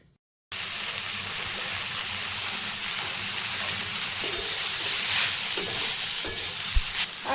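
Garlic, small pieces of ginger and green chillies frying in a pan for paneer butter masala, a loud continuous sizzle starting abruptly after a brief silence, with stirring scrapes and a few clinks, no voices.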